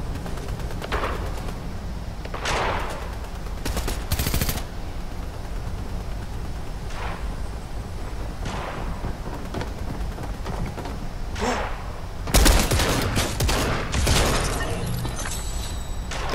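Gunfire in the video game Fortnite comes as scattered sharp bursts of shots, some single and some in quick clusters, over a steady background hiss, with a louder crackling volley near the end and no voices.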